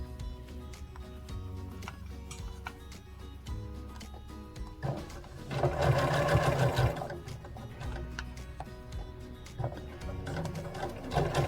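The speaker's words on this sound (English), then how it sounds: "I'm going to sew right over the zipper again in the front here" A sewing machine runs in rapid, rhythmic stitching bursts on a hoodie, growing louder and denser midway as it stitches over the zipper, then resuming lighter stitches.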